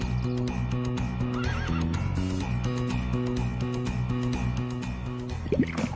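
A horse pulling a cart whinnies near the end, rising above a steady, rhythmic droning background that runs throughout.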